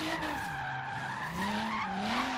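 Nissan Fairlady Z with a Rocketbunny kit in Forza Horizon 3, its engine droning with shifting pitch while tires squeal in a continuous skid, the sound echoing off nearby buildings.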